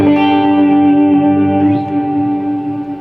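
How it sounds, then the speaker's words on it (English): An electric guitar run through a pedalboard with tremolo, delay, reverb and vibrato, sustained chords ringing out with a wavering, echoing tail, played alone with no talk. "got tremolo, we got delay, we got verb, we got some vibrato"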